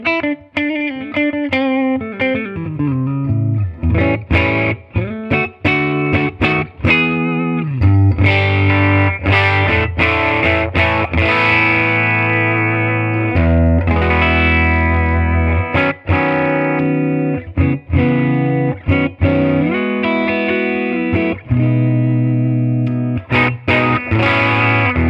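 Electric guitar through a vintage Fender-style Deluxe combo amp set on 3 plays distorted, overdriven chords and bends with a loud, full tone, choppy strums and sustained notes over about twenty-five seconds with no talk.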